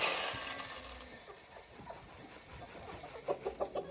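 Chickens clucking softly inside a backyard coop, with a few short, close calls and clucks rising near the end over a steady airy background hiss.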